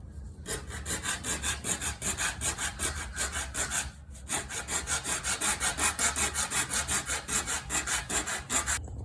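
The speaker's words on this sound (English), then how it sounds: "I take a hacksaw blade and I hold it in here with my fingers" Steady back-and-forth hacksaw strokes cutting metal while making a Guarnerius violin, a fast regular rasping rhythm close up, with one brief pause midway.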